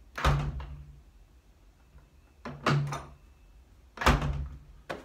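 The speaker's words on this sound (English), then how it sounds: "Let's test the door for proper operation." A storm door fitted with a new handle swings open and shuts three times in a row, each close a loud, near thunk with a brief latch rattle, separated by quiet pauses.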